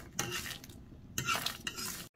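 Dried chili and garlic cloves grilling in a small pan, with soft sizzling broken by stirring scrapes and light clinks of a utensil against the pan, close and fairly quiet.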